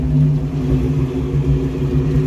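A Ford Mustang GT project car with short tube headers, an off-road H-pipe and Pro Chamber mufflers idles roughly on a clearing carburetor, a steady low throaty rumble close by with no talk.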